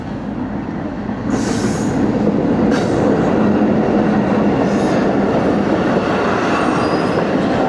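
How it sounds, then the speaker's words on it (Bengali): Loud and close, the Tungipara Express from Rajshahi to Gopalganj rumbles past at night in Kumarkhali with a steady roar of wheels on rails, rhythmic clacking and occasional high squeals. "ট্রেন চলে আসছে রে, আমরা ট্রেনের জন্য অপেক্ষা করছিলাম এবং অলরেডি ট্রেন চলে আসছে।"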